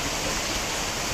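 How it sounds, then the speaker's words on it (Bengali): Heavy rain pours down during a thunderstorm, a dense, steady roar of falling water that stays loud and unbroken from start to finish. "প্রচন্ড বৃষ্টি হচ্ছে"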